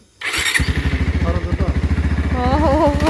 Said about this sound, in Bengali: আবার বাইক বের করে বাজারে রওনা